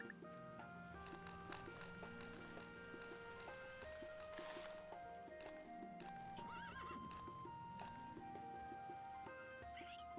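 Horses in the Starsand Island farming video game whinny and clip-clop, the neighs and hoofbeats heard over steady tonal background music with no talking.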